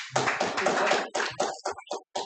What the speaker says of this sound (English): I would like to give a huge round of applause